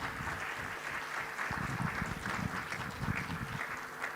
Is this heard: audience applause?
yes